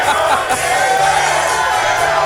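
A crowd of fans at a spelling bee celebration cheers and whoops in a steady, loud wash of voices that carries unbroken through the moment.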